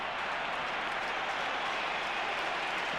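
A football crowd at a Carlton versus St Kilda match applauds steadily, a dense, continuous wash of clapping and cheering from a large stadium audience.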